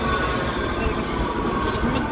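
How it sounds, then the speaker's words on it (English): Train at a Hungarian railway station, a steady loud rumble of rail noise with a constant broadband hiss filling the whole stretch, no distinct clicks or voices standing out. "We're at the train station."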